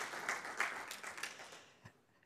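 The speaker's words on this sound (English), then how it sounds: "a big round of applause again for Hillary Mason from Hidden Door" An audience at the gamescom congress 2024 applauds in a brief, lively burst of clapping that tapers off within about two seconds.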